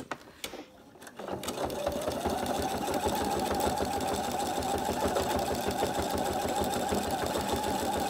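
A sewing machine running steadily through free-machine embroidery on a campervan appliqué, a continuous fast needle chatter that starts after a brief pause and holds close and loud to the end.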